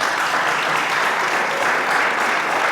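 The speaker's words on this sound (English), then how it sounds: "You should clap behind that." Steady, dense clapping from a symposium audience, many hands applauding together at an even level throughout, fairly loud with no pauses.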